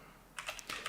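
Quick bursts of keystrokes on a computer keyboard as programming code is entered, four or five close, crisp clicks within under a second over a faint steady background hum, no voices.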